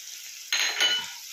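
A spice paste hits frying broccoli in a hot pan, setting off a sudden loud hiss that swells, then settles into a softer steady sizzle with light stirring.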